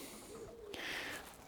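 A racing pigeon gives a brief, soft coo, faint and close, lasting about a second against a quiet indoor background.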